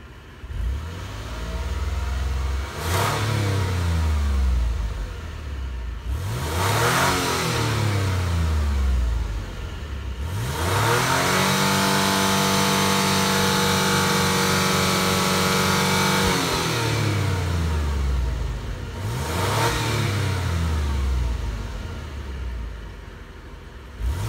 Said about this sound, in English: let me rev this for you and let's see if any smoke comes out